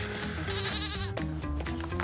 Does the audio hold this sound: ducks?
no